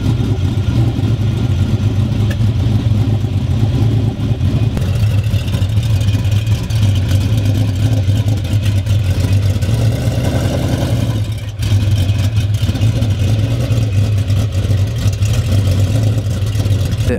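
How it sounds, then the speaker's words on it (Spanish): Ferrari Modulo by Pininfarina with its V12 engine running, a loud, steady, deep rumble close by that holds without pause for about seventeen seconds. "fliparéis cómo sonaba el V12, o sea, lo arrancó un rato"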